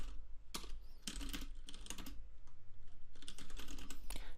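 Fingers type a docker command on a computer keyboard, with quick bursts of close, crisp key clicks separated by short pauses, then a denser run of rhythmic keystrokes toward the end.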